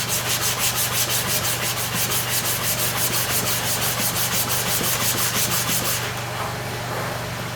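A clipper blade held in a blade holder is rubbed back and forth on a sharpening stone, a rhythmic, closely miked scraping stroke repeating steadily before easing into a smoother continuous rub.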